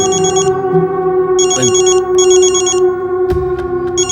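A telephone rings in a TV drama scene, sounding repeated loud electronic ring bursts in a regular on-off rhythm over a steady musical background.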